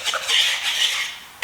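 A utensil stirring baking powder into ingredients in a bowl, with soft scraping and clinking strokes over a second and a half, close and fairly quiet.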